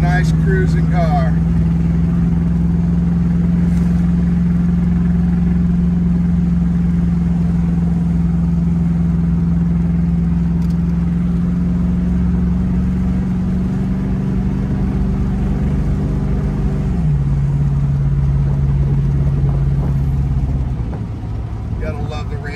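A 1965 Ford Mustang convertible with a factory 289 V8 and three-speed Cruise-O-Matic cruises along with a steady, loud low engine drone that holds its pitch for about twenty seconds, then steps down once as it shifts or eases off.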